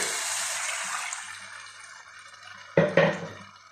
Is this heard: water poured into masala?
yes